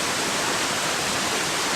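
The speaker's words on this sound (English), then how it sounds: "We're sitting down at the waterfall" A waterfall on a Virginia hike gives off a steady, dense roar of falling water, close and constant, with no other sounds standing out.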